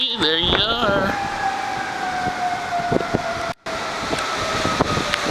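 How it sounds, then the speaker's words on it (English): A siren from an ambulance passing outside on a rainy, windy day, its wailing tones sliding downward as it goes by, fairly loud and steady over background wind and rain noise. "you hear sirens, but that was the ambulance."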